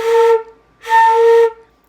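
Two sustained flute notes with soft, fuzzy, unclear attacks, each lasting about half a second, separated by a short gap, played alone and fairly loud.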